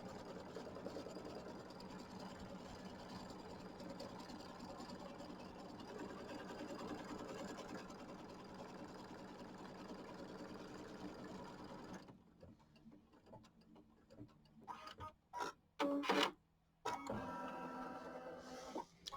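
A sewing machine stitches quilt border trim with white thread, whirring steadily and close for a long stretch, then stopping and starting in short bursts.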